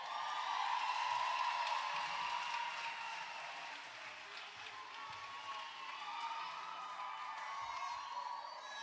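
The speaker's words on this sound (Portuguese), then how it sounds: "eu queria que você recebesse com muita alegria e uma linda salva de palmas" An audience at a church youth congress gives warm applause and cheering to welcome a preacher to the stage, a sustained wash of clapping that swells early and then holds steady without speech.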